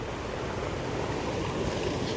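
Water rushing steadily out of a spillway into stagnant water, a loud continuous roar of churning flow heard up close with no talk over it.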